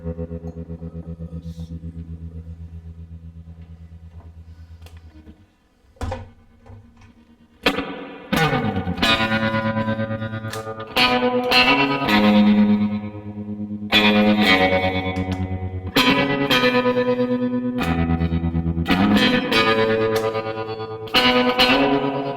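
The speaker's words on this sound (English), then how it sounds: "So just to give you a quick look at the tremolo" An electric guitar played through a tremolo pedal on a pedalboard, chords pulsing in choppy rhythmic bursts after a sustained opening tone, close and loud with no talking.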